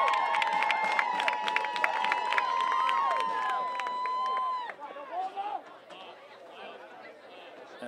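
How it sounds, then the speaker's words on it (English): An excited home crowd at a high school boys' soccer game chatters and cheers steadily, with whistles and raised voices overlapping, then thins into scattered shouts. "And a very excited Highlander crowd here."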